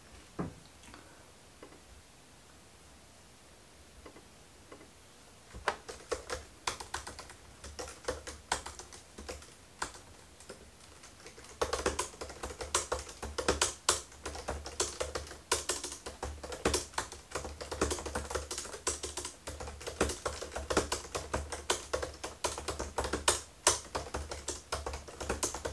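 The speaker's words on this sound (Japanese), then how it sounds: "ちょっとキーボード打ってみていいですか。" Close, steady typing on the keyboard of a 16-inch MacBook Pro resting on a laptop cooler stand; it starts sparse and quiet, then becomes dense and brisk clicking for most of the stretch, with no talk.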